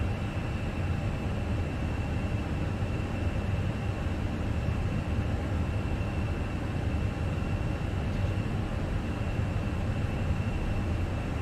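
Fenix A320 airliner engines roaring steadily on the takeoff roll in Microsoft Flight Simulator 2020, a constant broadband rumble with a faint high whine held throughout, no speech.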